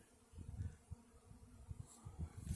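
A swarm of honeybees roars around a cedar tree outdoors, a steady low buzzing drone with fluctuating intensity as individual bees pass near the microphone, no voices present.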